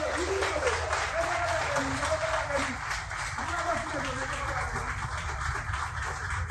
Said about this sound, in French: Je prends un applaudissement pour le panel.